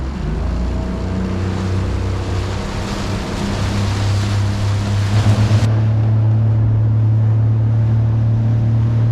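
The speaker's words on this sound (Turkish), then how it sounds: "Tahmin ettiğimizden daha fazla dalga var." Sea waves wash and slap around a small fishing boat as its motor drones low and steady, with wind noise rushing loudly over everything before easing partway through.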